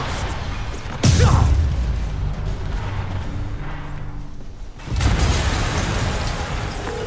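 Explosion in the Spider-Man Remastered video game on PC: a sudden loud boom followed by a rumbling roar, then a second blast-like surge with continued rushing noise, no talk.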